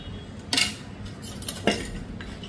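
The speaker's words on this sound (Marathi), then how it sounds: "आपल्याला हा साठा बनवायचा आणि खूप फेटून घ्यायचा अगदी पांढरा शुभ्र झाला पाहिजे" A spoon beats a ghee, rice flour and maida mixture in a metal bowl, making two bright clinking scrapes over a quiet background, with no voices.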